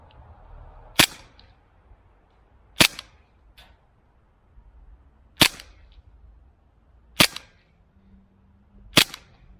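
A Cybergun Taurus PT24/7 G2 airsoft pistol fires five sharp, snappy shots spaced about two seconds apart, each a crisp pop against a quiet background.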